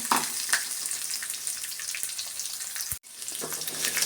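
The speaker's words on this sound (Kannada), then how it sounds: "ಶುಂಠಿ ಸ್ವಲ್ಪ ಬೆಳ್ಳುಳ್ಳಿ ಅದನ್ನು ಒಂದು ಬೆಳ್ಳುಳ್ಳಿ ಒಂದು ಅರ್ಧ ಇಂಚಷ್ಟು ಶುಂಠಿನೂ ಸೇರಿಸ್ಕೊಂಡು ಫ್ರೈ ಮಾಡ್ಕೊತ ಇದ್ದೀನಿ" Ginger and garlic fry in a pan for a chicken curry with a steady, bright sizzle and crackle, close and loud, with one brief drop-out partway through.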